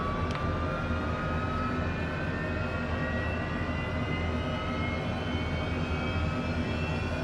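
Right engine of a Honda Jet spooling up in Microsoft Flight Simulator 2024, a steady loud jet roar with a thin rising whine held throughout and no voices.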